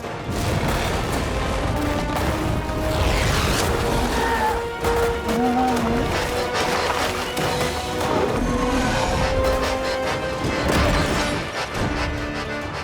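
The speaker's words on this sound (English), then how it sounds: "Fire the water cannons!" Water cannons fire in a Playmobil Novelmore animated battle, a dense stretch of crashing blasts, splashes and impacts layered with dramatic music, loud and continuous throughout.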